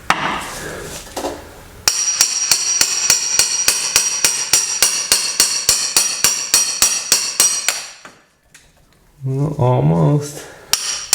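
A small contractor hammer whacks a bread-packed bearing to drive it out, landing about two dozen sharp, ringing metallic blows in a fast steady rhythm, then pausing before someone speaks briefly.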